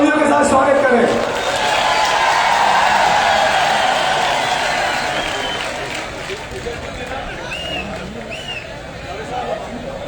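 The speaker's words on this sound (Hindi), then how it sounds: "जोरदार तालियों के साथ स्वागत करें" Welcome for Asaduddin Owaisi at a Jaipur gathering: a large crowd cheers, claps and whoops in a loud, continuous roar that slowly fades, with shouts rising above the din.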